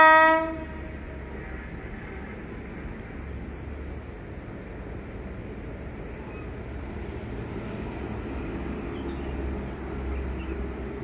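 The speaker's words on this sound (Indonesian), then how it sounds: "kereta api diesel hidrolik yang melintas dari stasiun Tuntang menuju ke stasiun Ambarawa" A diesel hydraulic train runs along a colonial-era Dutch rail line between Tuntang and Ambarawa stations. A short, loud horn blast opens, then a steady low engine rumble and rolling rail noise continue for about ten seconds, with no talk.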